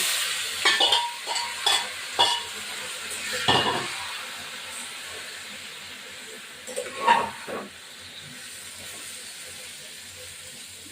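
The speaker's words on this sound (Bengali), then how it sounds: "এবার আমি মাংসগুলো ঢেলে দিলাম" Marinated chicken pieces are poured into a hot pan and stirred, with several sharp scraping spatula strokes over a steady hiss of frying, then quieter sizzling and a couple more clanks.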